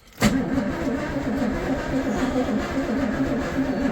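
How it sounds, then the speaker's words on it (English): An engine primed with starter fluid catches abruptly after a brief crank and then keeps running with a rough, uneven idle, loud and close, through the rest of the moment. "it fired up twice and died straight away"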